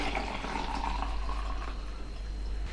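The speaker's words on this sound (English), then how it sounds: "with the milk now infused, I could just pour that back into the jug" Milk infused with onion is poured from a pan back into a jug, a steady liquid splash and gurgle over a low hum, with no talking.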